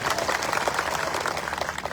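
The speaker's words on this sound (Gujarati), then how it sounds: "એકવાર જોરદાર આપણે તાળીઓ પાડી લઈશું" Rally audience claps in thanks to the police on duty, a continuous crowd of hands beating fast and dense, fairly loud and unbroken throughout, with no voices above it.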